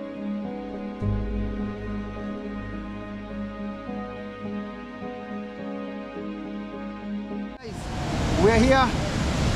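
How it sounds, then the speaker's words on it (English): Broadband roar of a big waterfall on Mount Kenya, rising loud and close in the final two seconds after a stretch of steady outdoor noise with a person speaking briefly. "The waterfall behind is so big."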